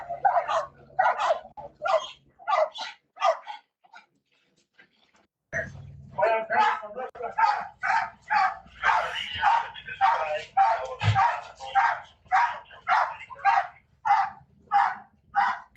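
A dog barks repeatedly at a house, sharp rhythmic barks in quick bursts, a brief pause, then a long steady run of loud barks close by.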